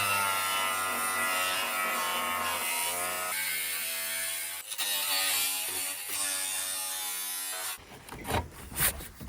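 An angle grinder whines and screeches while cutting through a car roof, its pitch shifting as it bites, ending in rough scraping and clattering.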